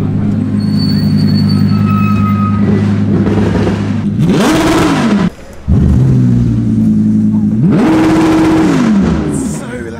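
An Audi R8 LMS race car roars past on a circuit, its engine loud and close, with rising revs and a shift, followed by a second pass, under crowd and track ambience.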